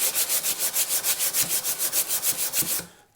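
Sandpaper rubs back and forth over a mother of pearl inlay set into a thinline bass guitar body, quick regular strokes about seven per second, loud and close, stopping abruptly at the end.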